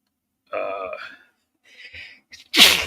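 A few soft vocal noises lead into one sharp, loud sneeze at the end, close to the listener.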